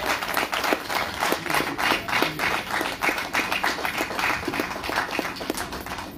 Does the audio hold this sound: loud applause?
yes